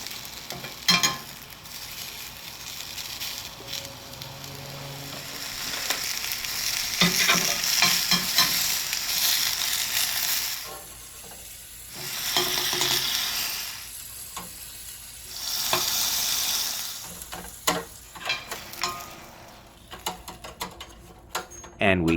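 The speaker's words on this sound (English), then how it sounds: "And we grill them until they're done." Camel burger arayes, lean camel meat in bread, grilling in a cast iron pan, with a steady sizzle and frying hiss that comes and goes alongside scraping and clatter from handling the pan.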